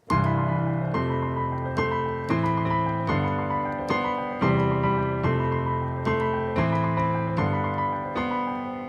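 Piano plays a repeating arpeggiated pattern, bright broken chords cycling steadily in even rhythm, close and clear with no voices.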